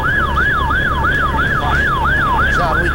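A loud wailing emergency-vehicle siren near the White House in Washington during the 9/11 attacks sweeps up and down in a rapid, regular cycle, close by, with a low traffic rumble underneath.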